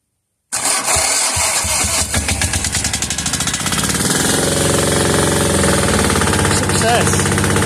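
A glow-plug engine cranks and catches after a short silence, then settles into a loud, steady, rattling run at low throttle, close by and without speech.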